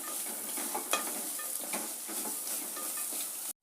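Masala paste with onion frying in a pan for sprouted green gram usali, a steady close sizzle with light stirring scrapes running throughout before cutting off abruptly near the end.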